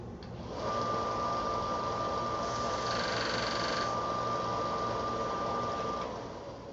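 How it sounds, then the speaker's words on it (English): A power sander works briefly over a wooden quarter rail, a loud steady close whine that starts, holds for several seconds with a brief shift in pitch midway, then stops, with no talk. "Let me go ahead and just give it a quick sand."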